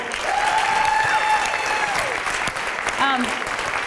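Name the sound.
audience applause at an awards event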